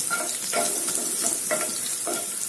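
Crushed garlic frying until crispy in hot oil, a continuous close sizzle with several distinct spatula stirring scrapes spaced about half a second apart.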